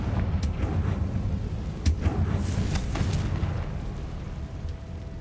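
A Confringo blasting spell goes off in Hogwarts Legacy, several sharp bursts popping over a steady low rumble of game ambience, with one stronger crack standing out near the middle.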